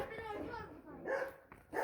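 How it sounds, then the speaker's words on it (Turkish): An angry dog barks in short, sharp bursts a short distance away at a residential site, mixed with people talking nearby. "Sinirli köpekten bayağı bir uzaklaştık."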